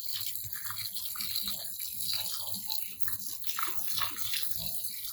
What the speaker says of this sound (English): We're giving them a nice drink of water.